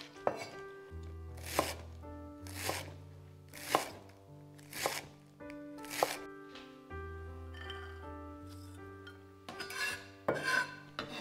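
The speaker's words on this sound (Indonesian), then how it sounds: "sekarang kita mau memotong cucai ya teman-teman, atau kucai kalau bahasa Indonesianya" A knife chops garlic chives (kucai) on a cutting board with a series of sharp, evenly spaced strokes and a quicker burst near the end, close up, while soft background music plays beneath.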